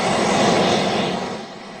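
Aircraft engine at Vnukovo Airport in Moscow, a loud, steady broadband roar close by that eases slightly toward the end, with no voices.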